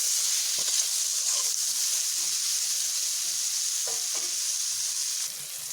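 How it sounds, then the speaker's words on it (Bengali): Pointed gourd pieces with salt and turmeric frying in hot oil, a loud continuous sizzle and hiss with occasional stirring knocks, no voices. "পটলগুলো এইভাবে লাল লাল করে ভেজে নিলাম।"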